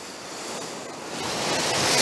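Big waves wash high up the shore at Songjeong beach after a day of rain, a dense broadband rush that builds louder toward the end.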